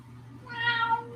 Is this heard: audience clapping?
no